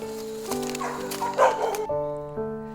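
Dogs bark and yelp at a kennel deep in the mountains, overlapping close calls of several animals over a strong tonal hum, clear and loud without talk.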